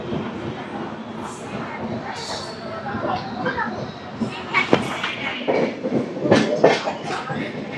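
The Golconda Express, a passenger train running between Guntur and Secunderabad, rumbles along near Mahabubabad with steady rolling rail noise and a few sharp clanks, while passengers chatter in the carriage.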